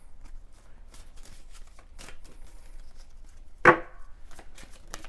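Fortune reading cards are shuffled close up, a series of soft riffling brushes and taps with one sharp, louder flutter near the end, all fairly quiet and without talk.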